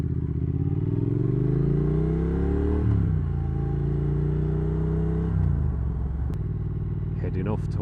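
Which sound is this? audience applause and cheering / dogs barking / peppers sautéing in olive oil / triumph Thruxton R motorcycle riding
triumph Thruxton R motorcycle riding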